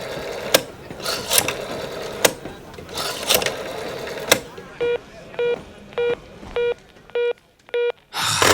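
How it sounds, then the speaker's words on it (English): Telephone number dialed at a public phone kiosk: after some rustling and clicks, six evenly spaced dial tones beep close and clear, one after another. "I dialed Hanna's number."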